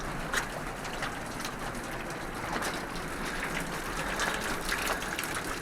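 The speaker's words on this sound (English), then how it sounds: "It's actually kind of raining on the trail from the rock up above." Steady splashing water falls from rock above onto a mountain trail on the John Muir Trail, patterning down continuously nearby like heavy dripping onto the ground, with no pauses or talk.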